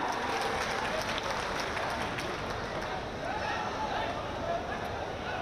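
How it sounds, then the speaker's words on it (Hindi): Crowd applause greeting MLA Dinanath Bhaskar at a public event in Bhadohi district, a steady dense wash of clapping filling the space with murmuring voices mixed in. "तालियों के माध्यम से अभिवादन"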